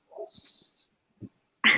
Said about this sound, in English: this is yeah an XXL size husky dog. What you hear now, and she never shuts up